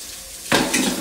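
Tap water suddenly gushes on over steady kitchen background noise as hands are washed while making a keto tuna melt, a close, rushing spray with no talking.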